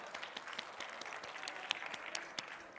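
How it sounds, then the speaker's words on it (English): Audience applause for the Ramon Obusan Folkloric Group after their performance at a social business conference, a steady wash of many hands clapping at moderate level with no talk over it. "Another round of applause, please, for the Ramon Obusan Folkloric Group."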